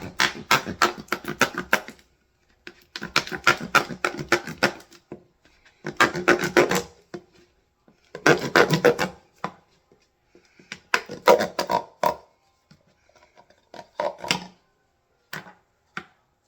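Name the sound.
cutting lemongrass in the middle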